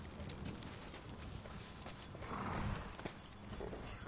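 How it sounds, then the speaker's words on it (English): Horse hooves clop faintly in a video game, a quiet irregular patter of steps under low ambient game noise. "I hear this damn horse."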